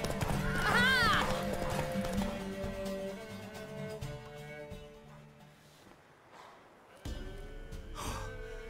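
A mare gallops in The Witcher 3 video game, hooves pounding in quick rhythm, with a neigh and heavy breathing early on; the hoofbeats fade midway, then pick up again near the end.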